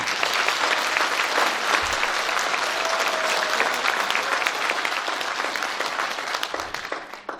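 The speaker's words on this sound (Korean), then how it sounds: "환영의 박수 한번 보내주시죠" An audience at a community town-hall event applauds to welcome the Incheon mayor, a dense, sustained round of clapping from a large crowd that holds steady, then begins to fade at the end.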